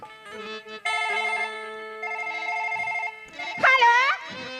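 A telephone plays a clear, melodic ringtone in repeated bursts, fairly close, with a voice breaking in near the end.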